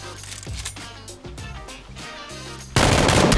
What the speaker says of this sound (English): Like when you're Rambo, you just shoot at everything, dude.